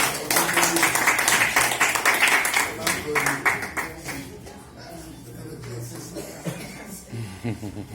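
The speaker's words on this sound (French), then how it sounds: "On applaudit" Audience clapping at a women's football coaching event, loud and dense at first, then thinning into scattered claps with murmured chatter and shuffling as it dies down.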